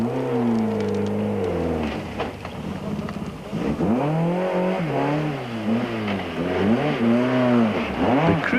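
A bent but still running Toyota Conquest rally car powers through a 1995 Sasol Rally stage, its engine revving hard and shifting through gears in repeated rising and falling surges, loud and close.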